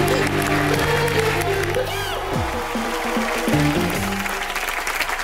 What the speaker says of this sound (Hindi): चलिए एक बार जोरदार तालियां